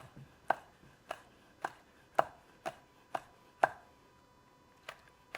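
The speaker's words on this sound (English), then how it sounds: "we're just gonna slice this thin" A knife slicing red and green chili peppers thinly on a cutting board, steady, about ten evenly spaced thin slices, close and fairly quiet, with no talking.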